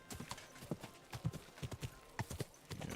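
Horse hooves clip-clop at an unhurried walking pace in the medieval open-world game Kingdom Come Deliverance II, a steady run of distinct strikes close by with a faint whinny among them and no talk over them.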